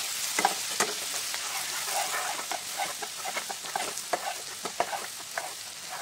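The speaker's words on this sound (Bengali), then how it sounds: "এইভাবে আমি নাড়তে থাকবো মিডিয়াম ফ্লেমে দিয়ে।" Garlic-ginger paste frying and being stirred in a pan over a medium flame, a steady close sizzle broken by repeated scraping taps of the spoon, with no talk.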